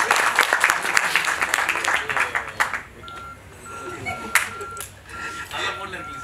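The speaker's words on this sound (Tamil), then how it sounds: "கைதட்டுங்கப்பா." A crowd at a film audio and trailer launch event claps loudly for a few seconds, then the clapping fades out under talk, with electronic pinging tones and a sharp clap or knock following.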